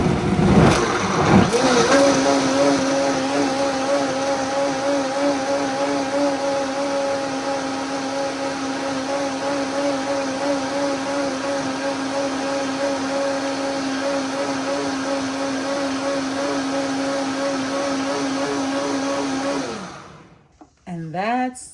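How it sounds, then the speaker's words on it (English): A blender whirs steadily as it purees vegetable kitchen scraps with water, a loud, close, sustained motor drone after a brief start-up rattle, cutting off abruptly near the end. "Otherwise, the blade is just going to spin and nothing will get blended."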